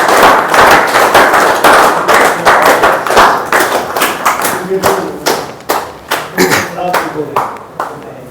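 Loud, dense applause from an audience at a leader celebration event in Mandi, Himachal Pradesh, clatters steadily and then thins into scattered claps, with voices rising through it toward the end.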